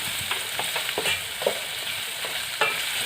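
Chopped raw plantain frying in ghee in a pan, a continuous bright sizzle with intermittent scraping knocks from stirring, close and moderately loud with no voices.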